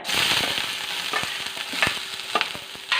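Onions frying in hot coconut oil in a pan, a steady bright sizzle with sharp stirring scrapes and clicks at irregular intervals.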